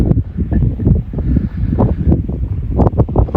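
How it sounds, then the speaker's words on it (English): Wind gusting across the open fell at High Cup Nick on the Pennine Way, a low rumbling buffet on the microphone rising and falling in uneven bursts. "The wind's dropped a little bit because I've just come out of the wind."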